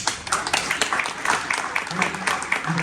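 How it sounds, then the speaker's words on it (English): Audience applause for a startup pitch panel at an 1871 final event, a steady dense patter of clapping filling the room with voices mixed in underneath. "let's do one last round of applause for our panel"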